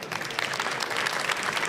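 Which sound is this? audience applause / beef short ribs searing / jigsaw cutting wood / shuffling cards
audience applause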